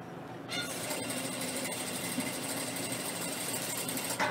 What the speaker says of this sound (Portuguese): Costuro.